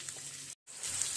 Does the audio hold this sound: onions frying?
yes